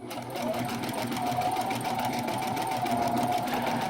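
A sewing machine stitching a satin zigzag edge on a tablecloth, running as a steady, close, rapid mechanical whir with a fast regular needle rhythm from start to finish.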